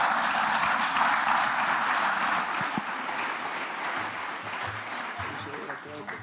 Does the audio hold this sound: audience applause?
yes